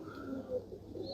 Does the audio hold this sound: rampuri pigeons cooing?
yes